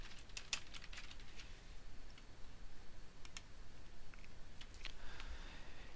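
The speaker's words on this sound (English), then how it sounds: "I can simply start typing and a drop-down menu will appear suggesting databases for me." Typing on a computer keyboard while searching databases in a legal research service, with quick, irregular clicking keystrokes in short bursts, fairly close and clear, with no voices.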